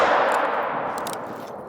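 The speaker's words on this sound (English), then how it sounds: "Come on, get the pistol out." A loud, sharp pistol shot in the hunting video game theHunter: Call of the Wild, with a metallic ring and a decaying tail and no talk.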